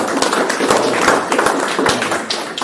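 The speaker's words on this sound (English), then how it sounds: "I think we all ought to give a little clap" A small audience gives a brief round of clapping, a dense patter of hand claps with a few sharper, louder claps standing out, close and fairly loud, lasting only a couple of seconds.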